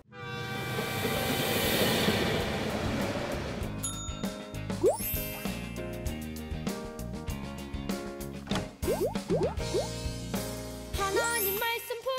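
A train runs steadily in a rhythmic clatter for several seconds, with bell-like dings and bright horn-like tones over the rolling rail noise, at moderate volume.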